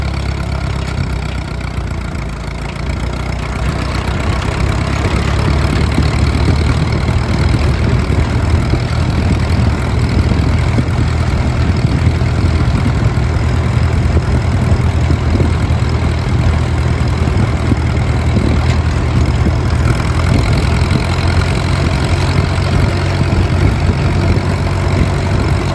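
Massey Harris 22 tractor engine running steadily during a short drive, a loud continuous low chugging rumble that holds even from start to finish with no talking.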